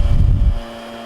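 A vacuum pump drawing down the refrigerant line on a Maytag refrigerator runs loud and rumbling at first, then drops to a steady lower hum with a tonal whine.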